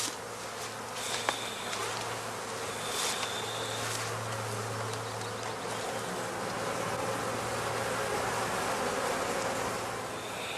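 Honeybees hum steadily around a traditional basket hive during a spring inspection. The buzzing is a soft, continuous drone with a few louder fly-bys near the microphone, and nobody speaks.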